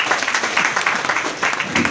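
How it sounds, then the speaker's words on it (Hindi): An audience at a business motivational talk breaks into applause: loud, continuous crowd clapping filling the brief moment, with no voice standing out. "एक बार मेरे ताली में जोरदार धन्यवाद"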